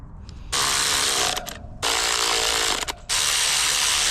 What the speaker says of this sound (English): Every bolt's coming undone on your rotor.